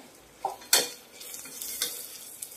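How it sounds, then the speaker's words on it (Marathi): Spices stir-fried in a pan for masala khichdi, a steady close sizzle broken by a few sharp spatula scrapes and clinks against the pan. "आता हे सगळे मसाले आपण यात घालून छान परतवून घेऊया"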